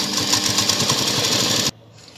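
A sewing machine stitches a V-shaped blouse neckline in a fast, steady, close-up mechanical whir that stops abruptly near the end, with no talking.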